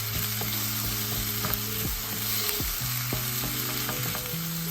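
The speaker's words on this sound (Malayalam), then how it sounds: "അതിലേക്ക് നമ്മൾ അരിഞ്ഞ് വെച്ചിരിക്കുന്ന തക്കാളി ഇട്ട് മിക്സ് ചെയ്യാം." Chopped tomatoes tumble into a pan of sautéed onion, garlic, ginger and curry leaves, with a steady close sizzle and scraping stir strokes running throughout, no voices.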